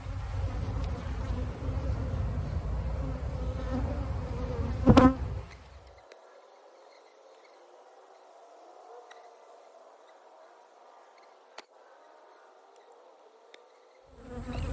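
Honey bees buzz at a hive during an inspection, a dense steady drone for about five seconds before dropping to a faint, distant hum with occasional small clicks.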